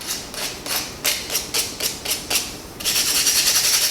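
Sandpaper rubs the raised lettering on a glass mason jar in quick, rhythmic back-and-forth strokes, close and crisp, then shifts into a faster, continuous scrubbing near the end.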